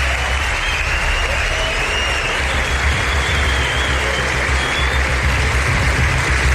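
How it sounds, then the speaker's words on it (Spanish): A theatre audience applauds in one sustained, loud and even burst of clapping that fills the hall for several seconds, with a low rumble underneath. "Os pido un aplauso para que se sienta la fuerza en todo el mundo de estas islas mágicas."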